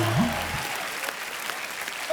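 A studio audience on a comedy talk show claps in a steady, dense burst of applause, with a short musical sting at the start and no talk over it.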